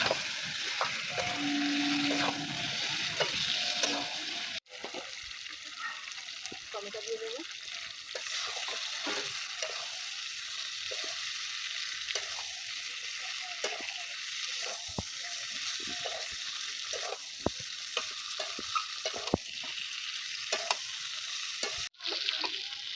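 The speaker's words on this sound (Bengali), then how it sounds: "কেটে রাখা ইঁচড় দিয়ে দেবো একসঙ্গে আমি কষিয়ে নেবো এই চিকেন দিয়ে" Chicken and green jackfruit sizzle and fry in a pan with oil, a continuous hiss broken by scraping stir strokes and clinks of the spatula, with occasional quiet talk over it.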